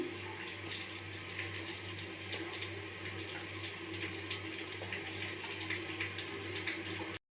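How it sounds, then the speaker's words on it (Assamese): Plain cold water pours steadily into flour for kneading homemade papad dough, a soft continuous splashing trickle that runs close and even for several seconds, then cuts off; no one talks. "আটাখিনি মাৰিবৰ কাৰণে মই পানী লৈছোঁ।"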